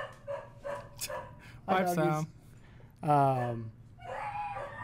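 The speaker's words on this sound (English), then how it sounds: "his dogs are going crazy upstairs right now" Dogs barking upstairs, a few muffled, distant-sounding barks and yelps heard under and between people talking nearby.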